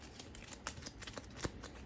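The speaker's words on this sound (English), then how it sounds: "We'll do a quick shuffle of these" Cards from a Game of Thrones board game are shuffled by hand, a faint, close series of quick riffling flicks and soft snaps.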